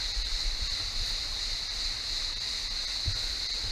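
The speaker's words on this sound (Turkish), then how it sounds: "Oradan aşağıya sular akıyor." Waterfall water flowing down from the King's Pool area of Uçansu Waterfalls: a steady, even rush of falling water with a constant hiss and faint low thumps, no voices.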